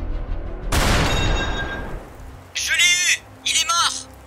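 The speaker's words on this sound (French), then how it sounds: "Bon sang, c'était quoi ces coups de feu?" A sharp video game gunfire burst crashes in and decays into a rumbling tail, followed by two short bursts of whooping, warbling tones.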